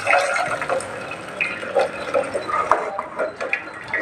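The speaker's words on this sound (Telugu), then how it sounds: "ఇప్పుడు ఈ వాటర్ని మనం వేస్ట్ చేయకుండా వాటర్ని ఒక బౌల్లోకి వడబెట్టుకుంటున్నామండి." Water strained off cooked horse gram into a bowl, a splashy, uneven trickling and pouring with small gushes, close by and moderately loud with no voices.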